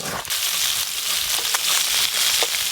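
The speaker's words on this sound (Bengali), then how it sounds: "এই মাছগুলো ভাজা হয়ে গেল" Fish frying in hot oil, a loud, steady, hissing sizzle with brief crackling bursts throughout.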